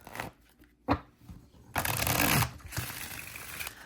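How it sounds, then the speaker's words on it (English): An oracle card deck riffles and snaps together in a couple of quick rustling shuffles, close by and otherwise quiet. "Let's check out how it shuffles."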